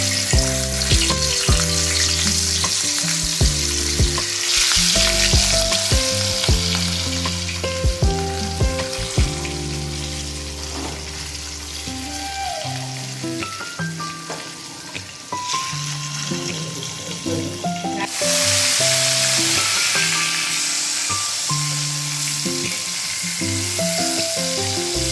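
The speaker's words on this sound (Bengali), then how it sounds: "এবার আমরা এক এক করে মাছগুলো ভেজে নেব। সাদা তেলটা গরম হয়েছে।" Katla fish frying in hot white oil for a Bengali dahi katla dish, a steady close sizzle running throughout with background music laid over it.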